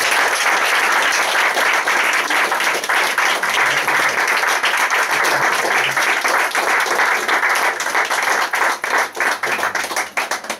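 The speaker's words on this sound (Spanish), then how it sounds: "así que pido un aplauso para el ponente." Audience applause for a lecturer at the close of a science talk, dense steady clapping from many people, loud and near, thinning into scattered individual claps over the last few seconds.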